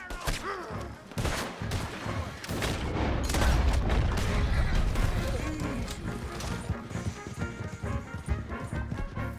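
Gunfire in Red Dead Redemption 2 comes as scattered, sharp shots and bursts mixed with galloping horse hooves, while voices shout throughout the chaotic chase.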